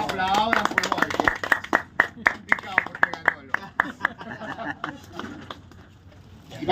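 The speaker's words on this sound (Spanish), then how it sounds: "Un aplauso, por favor." An audience at a national spearfishing championship award ceremony gives scattered, uneven clapping that thins out over several seconds while an announcer talks.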